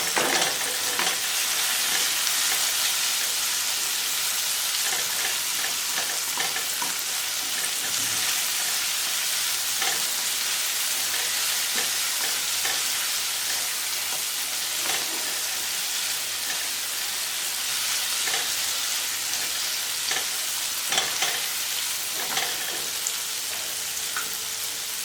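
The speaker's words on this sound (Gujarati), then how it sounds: "અને હવે આપણે એડ કરીશું એક આલુને આપણે એડ કર્યા પછી હલાવી લઈએ." Potato being stirred into a spinach curry frying in a pan, a steady close sizzle with scattered soft scraping and clinking of the spoon against the pan, no talking.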